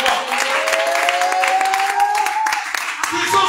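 A church congregation applauds and cheers to acclaim the King of Kings during a worship service, with steady sustained clapping, crowd voices and a tonal line like singing or music running through for the full length.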